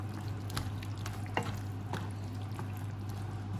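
Sauce with bamboo shoots and fish balls for a spicy stir-fry bubbles quietly in a pan, a soft steady simmer with a few faint pops and stirring clicks.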